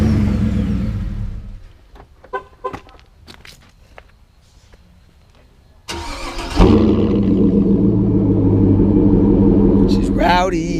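A Hummer H2 with a Borla dual exhaust cranks and fires up, catching with a loud rumbling idle after a few quiet knocks and a voice; the engine settles into a steady, throaty idle.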